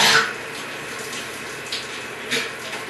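Hot water from a shower runs in a steady, fairly loud spray, close by, with a few slight swells in the flow.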